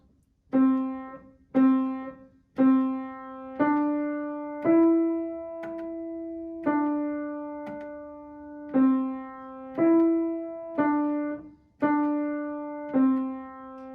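A piano plays the slow, simple melody of Au clair de la lune in single sustained notes, about a dozen evenly spaced, each ringing out clearly with no other sounds.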